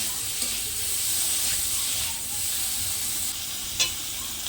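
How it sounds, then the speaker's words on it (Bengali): Prawns rubbed with turmeric and salt fry in a hot pan with a continuous bright sizzle and hiss. There are a few soft stirring knocks, and one sharper clink comes near the end. The frying is close and steady, with no voices. "ভালোভাবে ভেজে নেব।"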